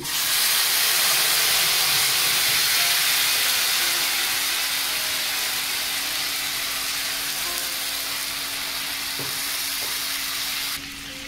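Ginger-chili paste hitting hot oil with cumin, dried chilies and bay leaves, giving a loud, continuous hissing sizzle that slowly eases over several seconds, with a faint clink partway through.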